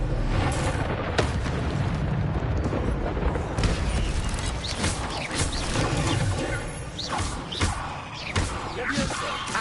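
The Incendio fire spell cast in a video game, a dense, loud roar of booming, crackling blasts and thuds that continues for the whole stretch, with a voice faintly present.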